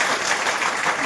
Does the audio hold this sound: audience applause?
yes